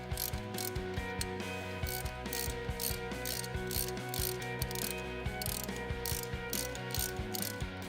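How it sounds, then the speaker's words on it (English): A ratchet on a deep well socket clicks rapidly and steadily while backing out Bosch glow plugs, the close metallic pawl ticks running in quick repeated strokes with no talk. "use a deep well socket and ratchet to remove the glow plugs"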